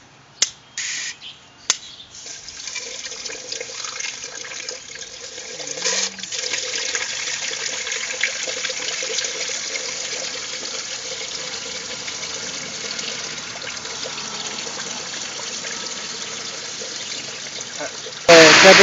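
Water running steadily into the cooling system of a 2009 Hyundai Accent during a coolant flush, a continuous close hiss of filling liquid holding for most of the clip after a few sharp clicks, ending with a louder burst.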